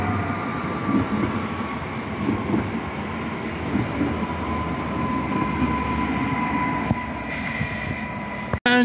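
EN78006 electric train running from Kraków to Tarnów rolls past, a steady rumbling rail drone with faint tonal whine and a sharp clack near the end, close and continuous.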